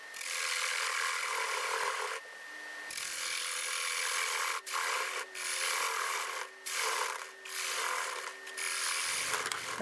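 Half-inch bowl gouge cutting apple wood on a lathe turning at about 724 RPM, a steady loud scraping hiss broken by several short pauses as the tool lifts off the spinning wood.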